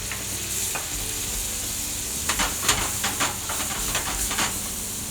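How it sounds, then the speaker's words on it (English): Wine hits a hot pan of sizzling Amatriciana sauce, sending up a loud, bright hiss and bubbling crackle with stirring scrapes partway through, close and continuous with no voices. "Add my wine now."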